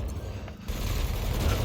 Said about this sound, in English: Your cannon will automatically reload until the ammunition supply runs out.